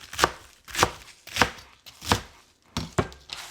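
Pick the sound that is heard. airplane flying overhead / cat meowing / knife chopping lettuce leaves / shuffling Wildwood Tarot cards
knife chopping lettuce leaves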